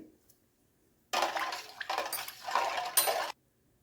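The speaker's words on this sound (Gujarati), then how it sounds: "હવે બધા મસાલા પહેલાં મિક્સ કરી લઈએ" Spoon stirring spices together in a bowl for Gujarati fajeto, a mango and besan curry: a steady run of close scraping and clinking lasting about two seconds, with brief pauses, alone and fairly loud.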